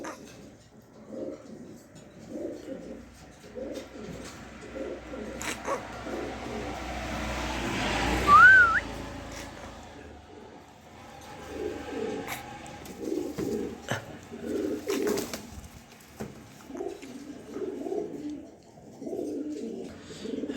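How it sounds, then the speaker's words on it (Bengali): Giribaz pigeons coo softly and repeatedly in a pigeon keeper's loft, low throaty coos rising and falling against faint background noise, with one brief higher call near the middle. "এখানে কিছু গিরিবাজ কবুতর আছে"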